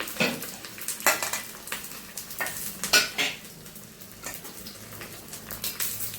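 Green chilies, onion and curry leaves sautéing in hot oil with popped mustard seeds, giving a steady low sizzle broken by sharp, irregular scrapes and clinks of a ladle against the pan.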